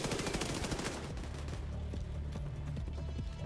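Rapid MP5 submachine gun fire in the video game The Division 2, a dense burst of close, loud shots in the first second giving way to scattered pops under a steady low rumble.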